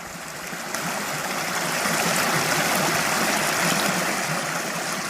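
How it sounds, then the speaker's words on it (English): River water rushes steadily through a mountain canyon lined with cottonwoods, a continuous close hiss and gurgle that holds even and loud with no voices. "that's water flowing"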